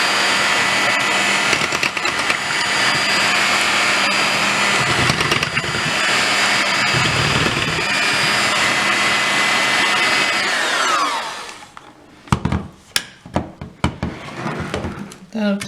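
An electric mixer whips cream for strawberry crepe filling with a steady whirring hum that runs for about ten seconds, then cuts off and gives way to clinks and knocks, with a voice talking over the mixer.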